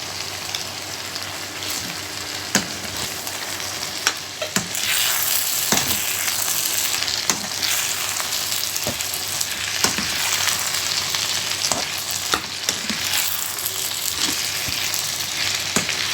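About a cup of shredded cabbage fries in a kadhai for vegetable stir-fry noodles, with a loud, continuous sizzle close up and sharp, regular clinks of stirring throughout.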